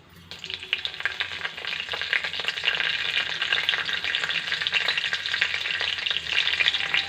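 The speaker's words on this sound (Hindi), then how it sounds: "इसमें हम मेथी के दाने डालेंगे आधा चम्मच तड़के के लिए, और 2 सूखी हुई लाल मिर्च" Fenugreek seeds and two dried red chilies crackle and sizzle in hot oil for a tempering, a loud, steady frying hiss that sets in within the first half second and holds throughout, with no talking.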